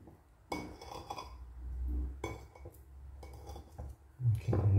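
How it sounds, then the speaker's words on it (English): A knife slicing bananas lengthwise on a board, a few separate knocks and clinks of the blade with soft scraping between them, close and quiet with no talking. "we're going to cut down the length of the banana"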